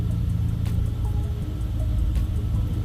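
A car engine idling with a low, uneven rumble after a mass airflow sensor swap, steady and close, a few faint clicks on top.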